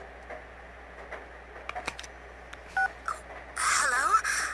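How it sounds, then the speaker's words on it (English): A phone rings in the video game Persona 4. Faint ticks and blips lead into a brief electronic ring tone that sounds twice near the end over quiet game background. "Phone is ringing."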